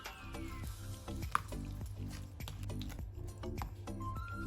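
Hot crispy potatoes being tossed and mixed into a salad, soft repeated squishing and clattering stirs in an even rhythm, close and fairly quiet.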